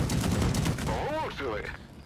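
A loud booming tank gun shot in the video game with the FV Defender tank, with a rumbling tail, opens the clip, followed by a voice speaking over the fading echo.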